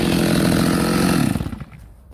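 Stihl MS 280 chainsaw cutting wood with sawdust flying, a loud, close, steady engine roar that abruptly cuts off and fades near the end, with no talk.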